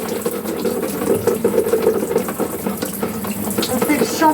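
Water runs steadily from a tap, rinsing hair during a shampoo after hair dye, a close, continuous splashing flow with no talking.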